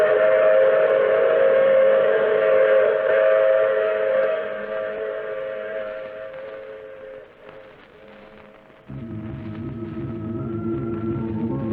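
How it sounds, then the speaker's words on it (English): A train sound effect from an old radio drama: a loud, sustained whistle blast over rumbling carriage noise that fades, followed by a steady rhythmic clatter of wheels on track. "I take this same train every week at this same time."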